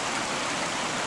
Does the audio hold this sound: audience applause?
no